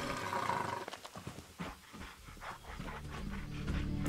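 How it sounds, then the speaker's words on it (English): A vicious dog in Fallout 76 pants and growls in rhythmic, breathy bursts over a rumbling game ambience, moderately close and fairly quiet, with no talking. "Is that just a vicious dog?"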